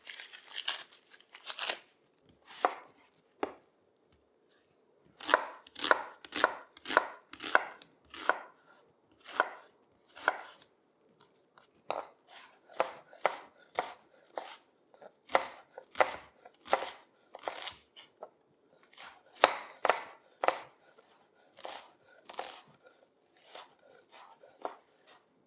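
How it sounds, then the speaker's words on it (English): Knife finely chopping an onion on a cutting board for a Greek moussaka meat sauce: close, crisp, rapid chops in quick bursts with short pauses, no talking. "We're going to need 1 onion that I'm just going to finely chop."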